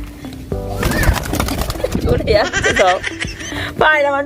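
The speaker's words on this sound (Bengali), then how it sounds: "মুরগি পায়রাগুলো ভয় পেয়ে যাচ্ছে আমি তারা করছি বলে মান্টু এখন ওদিকে গেছে দেখি একটা পায়রা ধরতে" Startled pigeons and chickens flap and scuffle nearby on a rooftop as someone tries to catch them, with cooing and squawking calls breaking out over a busy, close-up commotion.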